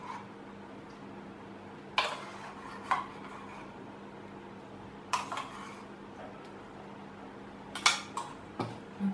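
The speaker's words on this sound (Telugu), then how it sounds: "ఈ రెండు కలిసేటట్టు బాగా కలుపుకుందాము" A spoon stirs almond paste into hot milk in a metal pot, making a few sharp clinks and scrapes against the pot at intervals over a low steady background hum, close by, with no voices.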